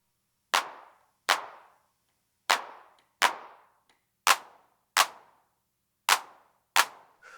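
Eight crisp, snappy handclap hits from a TR-909-style drum machine sound alone in an uneven pattern, each a bright, noisy burst with a short decaying tail and silence between them.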